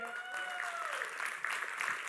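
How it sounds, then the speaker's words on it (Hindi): Audience applause in a lecture hall during a Hindi talk on wealth creation, a steady patter of clapping from a moderate-sized crowd with a voice speaking over the start. "तो ताली तो बननी चाहिए"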